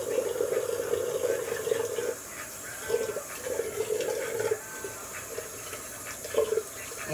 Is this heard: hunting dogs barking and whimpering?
no